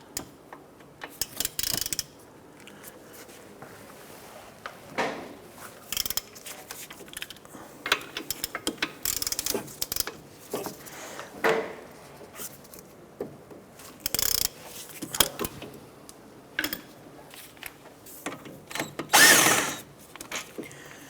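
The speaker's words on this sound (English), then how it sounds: "Using a 15mm socket, we're going to go ahead and remove our 2 caliper bracket bolts." A ratchet with a 15mm socket loosens the brake caliper bracket bolts on a 2006-2013 Chevrolet Impala, giving close, bursts of rapid clicking separated by short pauses, with faint metallic handling in between.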